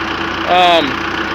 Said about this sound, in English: it's a 4 or something liter inline diesel engine. She runs really well.